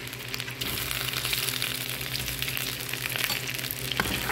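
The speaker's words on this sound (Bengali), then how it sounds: "আলুর সাথে আমি এখন ডিমটাও দিয়ে দিব, একসাথে আলু এবং ডিমটা ভেজে নেব" Potato and egg fry together in mustard oil in a pan, a steady close sizzle with soft crackling and a few stirring sounds, no talk.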